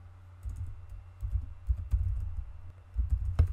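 Someone types on a computer keyboard in short bursts of close, soft key clicks with brief pauses between them, each cluster of keystrokes rising and falling in loudness while setting up Android Studio on a computer.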